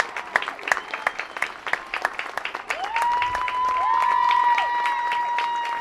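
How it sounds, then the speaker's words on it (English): A crowd at a high school varsity football game claps steadily, and the applause swells into sustained cheering and shrill whistle-like calls, loud and continuous throughout. "So you can hear the appreciation from the crowd"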